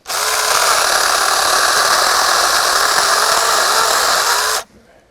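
A Makita-battery mini chainsaw, not made by Makita, runs at a loud, steady whine for about four and a half seconds while cutting a log roughly 2.5 to 3 inches thick, then cuts off abruptly to near silence.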